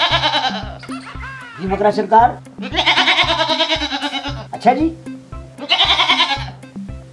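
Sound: goat bleating

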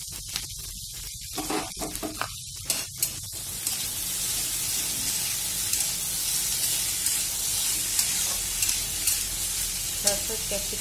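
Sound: potatoes frying and sizzling in a pan

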